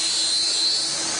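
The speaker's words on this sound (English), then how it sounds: "Using a spinning wheel coated in diamond dust, they slowly grind away the hardened zirconia to create a razor-sharp edge." A diamond-coated spinning wheel grinding the edge of a hardened zirconia ceramic knife gives a steady, bright, high-pitched whirring hiss that holds even and continuous throughout.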